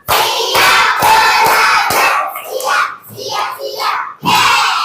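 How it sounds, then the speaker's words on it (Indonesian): A classroom of children claps in a counted pattern, one to five claps, in loud grouped bursts with brief shouts, close and strong, all at the same volume. "Coba tepuk 1, tepuk 2, tepuk 3, tepuk 4, tepuk 5"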